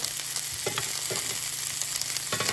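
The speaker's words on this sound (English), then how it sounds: "my pan's on a nice medium heat, and we're just looking for a nice sear on all sides" Meatballs sear in a pan over medium heat with a constant loud sizzle, punctuated by a few soft knocks and scrapes as they are turned.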